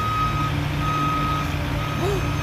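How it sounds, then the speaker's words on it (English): Steady reversing beeper on big trucks near a pumpkin smash event, a continuous high tone running throughout over low engine rumble and outdoor noise. "He's like, look at the trucks."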